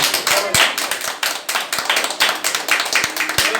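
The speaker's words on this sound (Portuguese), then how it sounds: "Quem pode dar uma salva de palmas para Jesus?" A church congregation claps for Jesus during a Portuguese-language service: loud, close hand claps in a loosely rhythmic pattern, with sharp individual smacks over the steady clapping.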